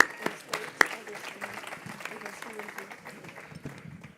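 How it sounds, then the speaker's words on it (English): Scattered hand claps from a modest audience at an award ceremony, uneven and fairly faint, with a voice speaking over them. "let's begin with an applaud for that"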